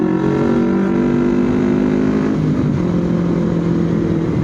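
A Kawasaki Ninja 250 FI motorcycle accelerates at speed with a loud, continuous engine drone that shifts in pitch partway through, along with steady wind rush.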